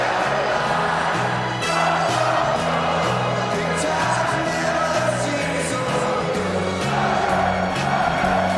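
A racecourse crowd roars steadily as the Everest horse race is about to start, a dense, sustained wall of cheering and whooping with a rhythmic pulse running underneath throughout.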